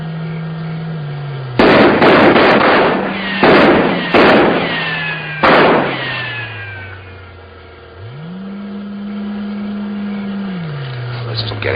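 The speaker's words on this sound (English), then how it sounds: "Maybe if we fired a few rounds, it might scare them out." Soldiers fire rifle rounds at a grounded flying saucer in a 1950s sci-fi film: several sharp, loud cracks in two clusters, each trailing echoing decay, over a low engine-like hum that later rises and falls.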